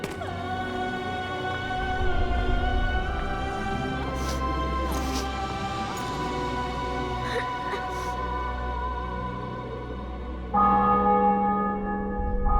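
Church bells ring out over a conquered city and fortress in The Witcher 2: Assassins of Kings, a steady layered peal with music-like tones, growing fuller and louder near the end.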